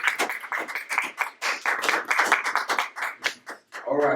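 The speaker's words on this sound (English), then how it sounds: "let's give another round of applause for Dr. Jeffrey" Audience applause for a speaker at a community gathering, a steady burst of many hands clapping for about four seconds before fading out, with a brief voice at the end.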